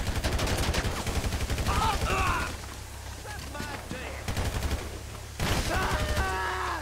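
Gunfire rattles in GTA V, quick automatic bursts spaced by short pauses, fairly loud and close, with a voice speaking in between.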